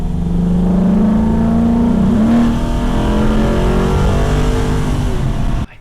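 A 1950 Ford F1 truck with headers and a rear-placed muffler rumbles close and loud, its engine rising in a long rev before cutting off abruptly at the end.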